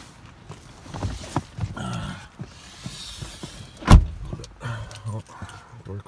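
A Subaru Crosstrek cold-starting at minus 31 Celsius, heard from inside the car: a quiet stretch with small clicks, then one sharp, loud burst as the engine cranks and catches, settling into a low idle.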